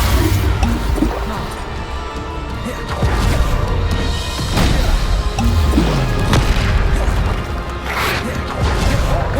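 Bombarda blasting spells go off in Hogwarts Legacy: loud repeated booms and crashing impacts pile up in continuous game combat, with scattered smaller thuds and splatters between them.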